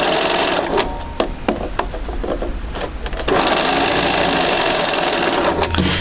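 Sewing machine stitching quilt fabric, a close rapid mechanical chatter that runs steadily, briefly slows with a few separate clicks, then resumes at full speed.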